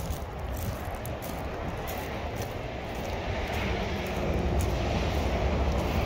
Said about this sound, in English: Half horsepower, exhaust fan.